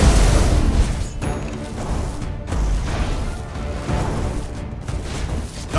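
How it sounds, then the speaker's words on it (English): Dire's middle tower takes a beating in a Dota 2 match, with dense, loud game-combat booms and crashing impacts layered over a continuous rumbling battle. "You can tell Dire's middle tower is in trouble from the way it's being destroyed as I speak"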